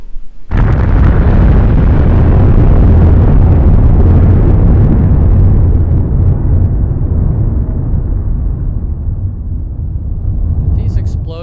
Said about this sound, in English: The first one being an atomic bomb explosion that Fiona mentioned.